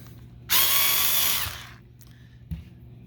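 A power driver whirs for about a second while loosening a screw during an amplifier build, then a few light clicks and a small knock follow, close and isolated.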